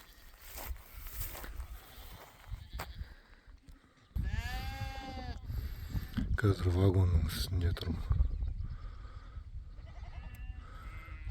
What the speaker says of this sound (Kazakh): Қойлар осылай қоршап жатады вагонда.